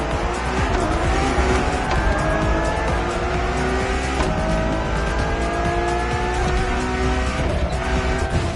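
A Ferrari Enzo supercar in The Crew Motorfest roars at high revs with tires squealing, loud and steady throughout, the engine pitch climbing through repeated shifts.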